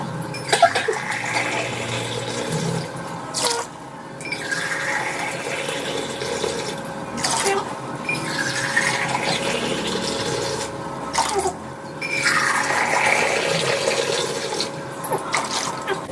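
Water pours steadily into a pot of soaking Sona Masoori rice for biryani, a continuous splashing rush broken by several brief pauses as the glass is refilled.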